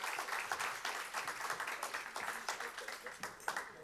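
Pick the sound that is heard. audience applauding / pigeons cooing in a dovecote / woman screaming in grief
audience applauding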